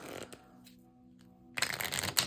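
Tarot cards being shuffled by hand, a soft papery riffle that starts quietly, pauses, then builds into a louder, denser burst of flicking near the end, close up with no talk.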